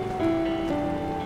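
Steady rain falls in a continuous hiss, with a couple of faint sustained tones running underneath throughout the short stretch.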